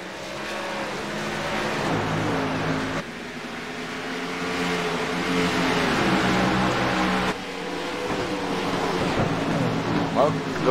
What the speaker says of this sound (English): So listen to those cars go by.